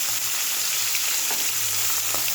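Fish frying in oil that is not quite hot enough, a constant bright hiss and crackle right up close, with faint clinks of a utensil now and then and no talking.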